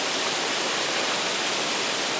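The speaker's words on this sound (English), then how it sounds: "we stopped because of the waterfalls" Waterfalls beside the Roaring Fork mountain road in Tennessee, a dense, steady broadband rush of falling water heard up close and loud, with no pauses and no voices.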